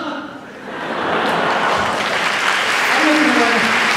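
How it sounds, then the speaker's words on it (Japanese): A concert audience claps for a big band, as a dense, steady wash of many hands that swells after a brief dip and stays loud and close throughout. "素晴らしい手拍子でもう心が舞い上がってしまいました"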